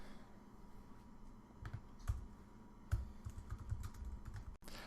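Close computer keyboard typing as code is entered for a tip calculator app, an uneven burst of soft keystrokes with a few sharper taps and a final loud click, with no talking.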